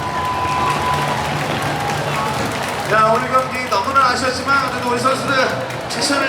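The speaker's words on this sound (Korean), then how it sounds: "우리 선수들에게 다시 한번 아낌없는 격려의 응원의 사랑의 박수!" A baseball stadium crowd applauds and cheers the players after a game, a broad wash of clapping and crowd noise; partway through, an announcer's amplified voice speaks over it while the crowd keeps going.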